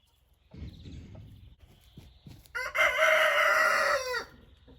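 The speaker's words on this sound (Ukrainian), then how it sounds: "Півник і курочка, фавіроль, красунчик." A Faverolles rooster crows loudly and steadily for about two seconds, preceded by low clucking from a Faverolles hen and scratchy rustling nearby.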